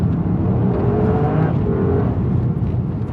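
A car on ice revs hard under throttle, a continuous loud engine roar with rising whine as it accelerates through a slide, steady and close throughout.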